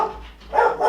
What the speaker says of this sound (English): Sorry about the dogs, by the way.